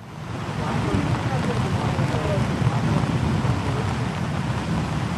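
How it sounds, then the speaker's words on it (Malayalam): Heavy rain pours steadily in Alappuzha during Cyclone Tauktae. It makes a dense, loud, continuous wash of downpour noise, with a low rumble and no pauses across the whole stretch. "ആലപ്പുഴയിലെ ഇപ്പോഴും മഴ തുടരുകയാണ്."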